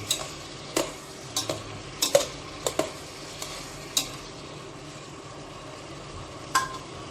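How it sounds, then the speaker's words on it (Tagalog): Braised pork humba being stirred in a cooking pan, with sharp scraping clinks of the utensil against the pan at irregular intervals over a soft steady sizzle. "Tsaka haluin natin ng maigi. Haluin lang ng haluin."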